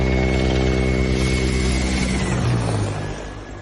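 Mi-8 helicopter making a low flyby, a loud, steady rotor and turbine drone with strong tonal hum that swells and then fades slightly as it passes, with no voices.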